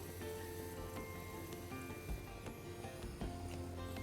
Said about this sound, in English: now I am going to fry this in a little ghee